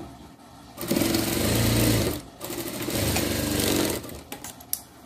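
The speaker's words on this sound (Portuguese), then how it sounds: "Ótimo, olha só, costurei o meio" Sewing machine stitching a small fabric dress for a Shih Tzu, running in two steady bursts of close, buzzing motor hum separated by a short pause, then a few light clicks as it stops.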